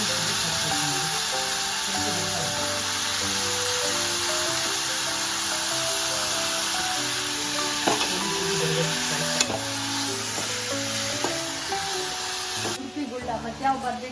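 Brinjal (eggplant) added to a hot pan for a South Indian brinjal sambar, frying with a steady close sizzle and occasional stirring scrapes throughout, with a background hum.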